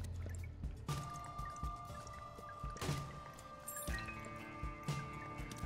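Someone drinks water close to the microphone with wet sips and swallows while electronic game music plays steadily underneath.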